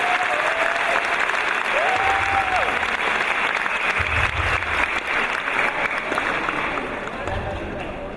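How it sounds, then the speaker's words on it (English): Warm applause from parents, graduates and guests at a university commencement ceremony fills the hall, steady and dense throughout with a faint voice over the clapping near the start. "let's give a warm round of applause to all your parents"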